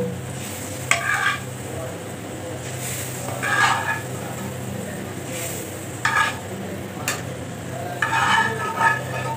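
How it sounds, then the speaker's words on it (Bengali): Shrimp dropped one by one into a simmering coconut shrimp curry in a pan, giving a steady close bubbling sizzle with a few brief louder stirring and splash bursts. "ঝোলটা ফুটে উঠেছে, এখন একে একে চিংড়ি মাছগুলো দিয়ে দিব।"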